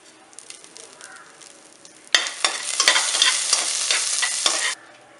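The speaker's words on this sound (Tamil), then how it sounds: "எண்ணெய் காஞ்சிருச்சு நம்ம கொஞ்சம் கடுகு போட்டுக்கலாம் கொஞ்சம் உளுந்தம் பருப்பு கொஞ்சம் ஜீரகம்" Mustard seeds, urad dal and cumin hit hot sesame oil and erupt into a loud, dense crackling sizzle that runs steadily for a few seconds and then stops abruptly, after a quieter stretch of light pan noise.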